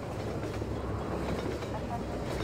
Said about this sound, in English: Do I have to wait for this train to go by?